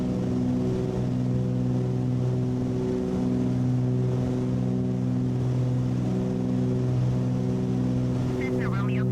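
Cessna 414 twin piston engines in Microsoft Flight Simulator drone steadily with strong, layered harmonic tones as the throttle eases back slightly, running continuously throughout with a faint voice in the background.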